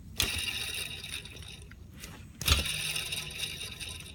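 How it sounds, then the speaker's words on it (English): A worn old belt tensioner from a 2008 Lexus ES350 being turned by hand gives a faint, rough whirring and grinding with two sharp clicks near the start and middle, close and quiet. "This is the old tensioner. Let's hear it."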